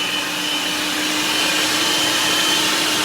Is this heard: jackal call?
no